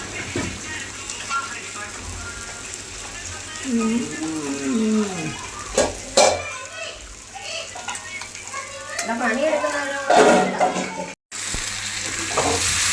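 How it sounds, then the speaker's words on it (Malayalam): Food bubbling and simmering in a pot, a steady sizzling hiss with occasional clinks and people talking over it. "നോക്കിക്കേ തിളച്ച് മറിയുന്നത് കണ്ടാ."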